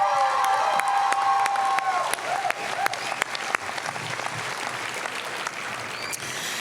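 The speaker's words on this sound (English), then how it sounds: "Can we give them another round of applause?" A graduation audience at the 2019 SOTA ceremony bursts into dense, sustained applause with scattered cheers; a brief whistle-like tone rings over the opening seconds before the clapping settles into a steady, even roar.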